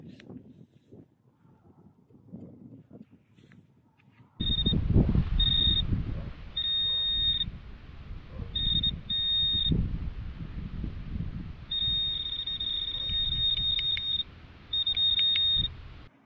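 A metal detector sweeps over ground while searching for metal objects, giving repeated high electronic beeps in short bursts and longer tones over rustling handling noise, with a quiet stretch before the signals start.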